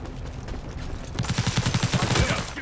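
Rapid automatic M416 rifle fire in a first-person shooter game, a fast burst of closely spaced loud shots starting midway and continuing to the end, preceded by quieter game ambience.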